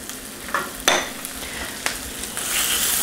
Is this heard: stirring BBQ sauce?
yes